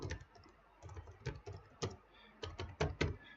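Someone types on a computer keyboard while naming a Windows restore point, a close, fairly quiet string of irregular key clicks with brief pauses between short bursts, no talking.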